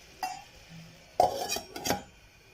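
A lid placed over a pot of oil rice with fish: a light metallic tap, then a clattering clink and rattle as the lid settles, close by and fairly soft.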